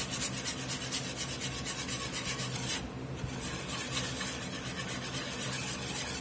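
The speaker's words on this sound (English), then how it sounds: "I'm going to get me a whisk and get this whooped up here real good." A wire whisk rubs and scrapes rhythmically against a pan as gravy mixture with beef broth is whipped up for country fried steak. The close, steady scraping strokes pause briefly midway, and there is no talk.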